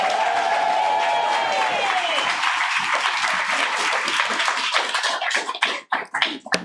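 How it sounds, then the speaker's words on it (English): An audience at a Los Angeles book launch at Beyond Baroque applauds the author's parents. A voice speaks over the opening seconds, then steady clapping fills the room and thins into a few scattered, separate claps at the end. "So I just want to give my parents a round of applause"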